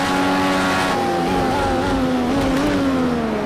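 An IndyCar race car in Project CARS 2 screams along at Sonoma, its high engine note sliding down and rising again as it brakes and accelerates through a corner, loud and close.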